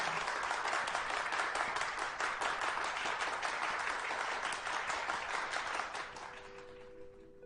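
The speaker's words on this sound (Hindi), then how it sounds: "तालियों से उनका स्वागत कीजिए" An audience applauds to welcome a presenter from a technology company, a dense steady wash of clapping that fades out over the last second and a half.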